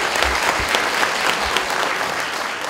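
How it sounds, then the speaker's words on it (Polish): Audience applause at a charity concert: a dense, even wash of many hands clapping that holds at a steady, loud level from start to finish, with no speech on top. "Jeszcze raz wielkie brawa dla Tomka."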